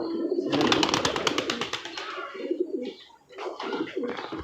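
Large racer pigeons coo close by in repeated throaty, rolling calls, with a burst of rapid rhythmic notes early on and more cooing phrases after a short lull; no speech.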